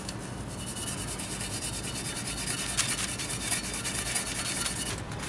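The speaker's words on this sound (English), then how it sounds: "I've taken a Scotch-Brite pad from the kitchen, just cut it up a little bit, and I'm just going to run it down" A cut-up kitchen Scotch-Brite pad rubs old silicone off a Ford Super Duty rear differential cover, a continuous close, dry scrubbing rasp with steady back-and-forth texture and no talking.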